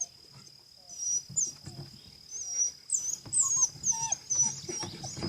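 A nervous, territorial dog whimpers excitedly in a series of high, wavering whines that rise and fall close by, with some low background noise and shuffling.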